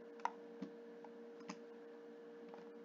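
A few light, sharp computer mouse clicks sound in a quiet room during Blender modeling work, sparse and irregular over a faint steady hum.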